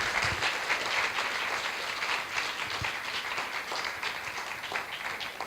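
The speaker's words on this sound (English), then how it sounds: "A big round of applause for Anne, please." An audience applauds a guest speaker at an evening school parent event, a steady, even clapping that holds for several seconds at moderate distance with no talk over it.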